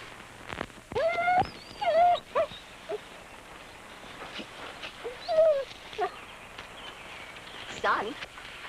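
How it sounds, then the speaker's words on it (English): A dog whimpering and whining in a handful of short high-pitched cries spread across the scene, fairly close, with people speaking in between. "Poor dog."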